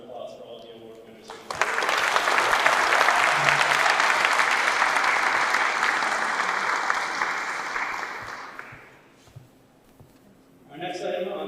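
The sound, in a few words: audience applause for award winners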